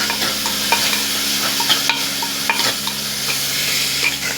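Onions sauté in a clay mud pot for fish curry, a loud, close, continuous sizzle broken by the scrape and clatter of a spoon stirring.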